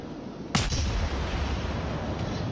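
A naval gun salvo from the cruiser Edinburgh in World of Warships, heard as a single sharp, loud blast followed by a rumbling decay under steady background game noise.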